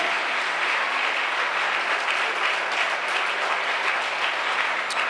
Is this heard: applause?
yes